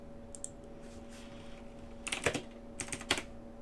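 Quick bursts of typing on a computer keyboard while entering a measurement value, a few close key clicks in two short clusters over a low steady electronic hum, with no talking.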